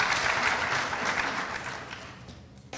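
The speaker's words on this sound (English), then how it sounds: "Please give them a round of applause for their commitment." An audience at a school district welcome-back event claps for commissioners, a dense burst of applause that is loud at first and then gradually fades away.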